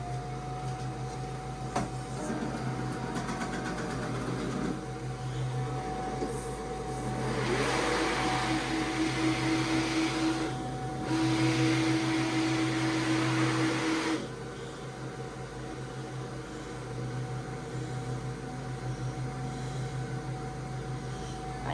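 A Cricut Venture cutting machine cutting vinyl for a garden flag, a steady mechanical whir with motor hum that swells into louder passes of the blade carriage, then settles back, with no talking.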